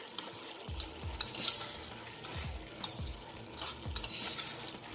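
Garlic and peppers sizzle in a pan while a utensil stirs and scrapes through them in repeated strokes with soft clinks, close by and with no speech.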